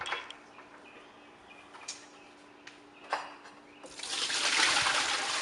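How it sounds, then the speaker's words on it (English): Water pours into the reservoir of a cabbing saw with a motor-driven blade and brass bushing. Small ticks and drips come first, then a louder, steady splashing stream in the last seconds. "So let's fill it up first with water."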